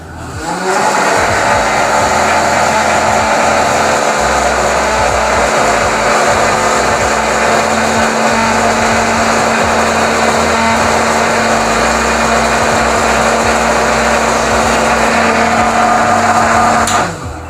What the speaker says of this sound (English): Now let's see how our vacuum cleaner cleans all this dirt using the Bernoulli's principle.